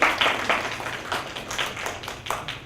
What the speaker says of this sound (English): an applause for Terry.